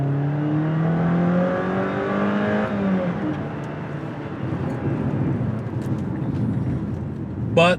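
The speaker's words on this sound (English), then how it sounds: "the powertrain does get a little groany when pushed hard" A Jeep Compass with the 2.4 liter four-cylinder engine groans loudly under hard acceleration, the engine tone rising and then settling into a steady drone with road and wind noise, close and continuous.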